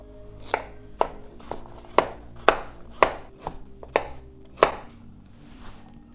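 A knife chops a purple carrot on a cutting board in about ten crisp, evenly spaced close-up strikes, with no talking.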